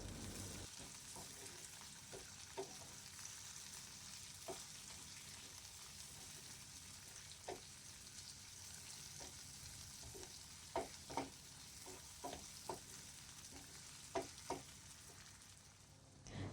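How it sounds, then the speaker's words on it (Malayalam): Chopped tomatoes and onions sauté in a pan for a Kerala-style squid curry, a steady soft sizzle running throughout with scattered light taps and scrapes of a stirring spoon, close and quiet. "ഇനി നമുക്ക് കട്ട് ചെയ്ത് വെച്ച തക്കാളി കൂടി ഒന്ന് ആഡ് ചെയ്ത് കൊടുത്ത് നന്നായിട്ടൊന്ന് വഴറ്റിയെടുക്കാം"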